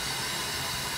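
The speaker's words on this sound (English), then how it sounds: "You might be able to hear the compressor running in the background." Compressed air from an air compressor blows up the smokestack of an oil-fired steam locomotive under repair, a steady, continuous broadband hiss with no breaks or talk.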